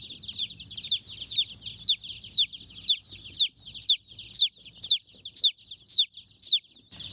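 Young Amberlink pullet chicks at a feed store, a laying breed, peep in a steady series of about a dozen high, rising chirps, close and clear over faint low rustling, with no talk.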